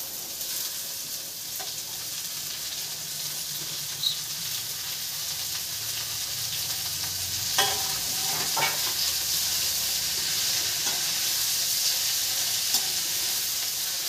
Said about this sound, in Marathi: छान अशी भेंडी परतवून घेऊया।